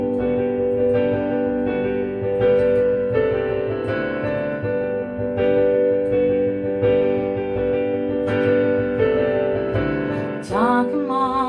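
Solo piano plays the chords of a song in a steady, flowing rhythm of repeated struck chords and single notes, close and full, with a brief higher flourish near the end.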